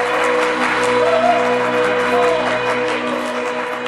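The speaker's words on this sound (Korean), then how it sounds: "다시 한번 박수 부탁드립니다." Wedding guests applaud at a hotel wedding ceremony, a steady, loud wash of clapping with a sustained tonal backdrop running underneath.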